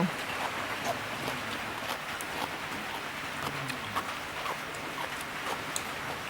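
Steady rain patters on a surface, a soft continuous hiss dotted with faint drip sounds, with low murmurs in the background.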